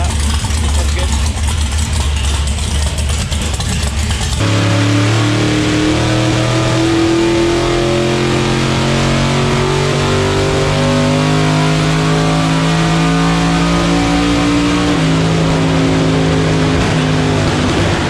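A Honda Trail 70 small motorcycle engine starts up loud and close, then runs steadily with revving swells that rise and fall for several seconds, with no talking over it.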